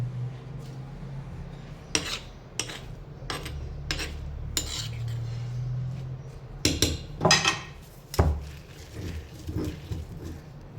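Potato thecha being crushed with salt in a mortar and pestle: about eight sharp, close pounding knocks at an irregular pace, with a low rumble between strikes.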